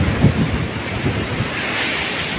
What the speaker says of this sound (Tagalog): nag-high tide, lumalaki alon